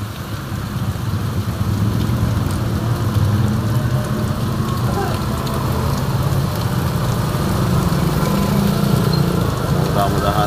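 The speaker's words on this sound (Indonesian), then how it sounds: "Hujannya deras." Heavy midday rain pours down steadily on the eve of the new year, a dense, continuous wash of broadband noise that holds without a break throughout.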